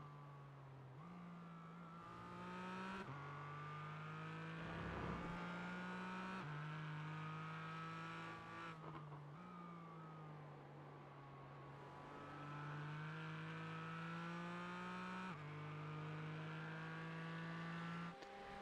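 A race car engine drones at high revs through repeated upshifts and downshifts, led by the 94 Porsche on a road course, a steady close mechanical whine with no talk over it.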